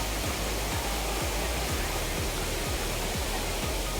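Soormane Falls, a small waterfall at Kalasa in Chikkamagalur, pours with a steady, dense rushing roar heard up close, with soft low thumps recurring about twice a second beneath it.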